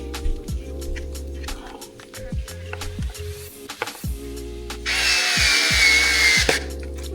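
Small screws are tightened by hand while Goldstrike Panovista mirrors are fitted to a 2024 Honda Goldwing motorcycle. There is a close, regular series of ratcheting clicks and turns, then a brief louder scraping burst near the end, with no talk.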